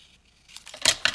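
Scissors cut paper for a handmade journal insert, making two quick, crisp snips close by after a quiet moment.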